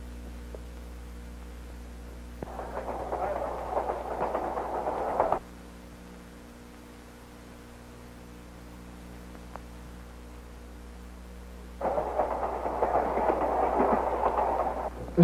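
A train passes trackside in two loud bursts of rumbling wheel noise separated by a quieter stretch of steady hum, with no voices.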